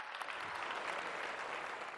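Dense, steady audience applause fills a hall during a political speech in Mexico, a continuous wash of many hands clapping at moderate distance, even in level throughout, with no voices heard.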